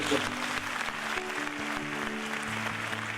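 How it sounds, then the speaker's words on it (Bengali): Loud applause from an audience at a student success celebration, sustained clapping that fills the whole moment, with voices and cheering mixed underneath. "এটা জোরে হাততালি হয়ে যাচ্ছে।"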